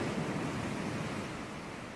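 Ocean waves wash in a continuous, even rush of surf, fairly close and broad, with no talking over the steady roar.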